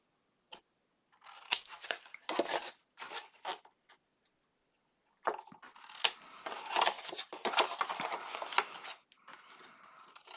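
Crisp snipping of scissors cutting a mitre into paper-covered chipboard tabs, several short bursts of close, clicking cuts separated by silences, with a longer run of rapid snips in the second half.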